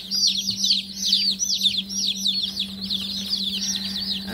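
Newly delivered meat bird chicks peep and chirp steadily in their shipping box, a dense chorus of high, overlapping calls alongside a constant low hum throughout.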